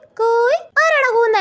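A human voice imitating a koel's call, two drawn-out rising whistled notes with a short gap between them, close and loud.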